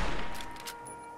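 Rapid gunfire aimed at a super mutant in the video game Fallout 3, a dense burst of shots filling the opening moment, then fainter scattered reports and echoing tail with no talk.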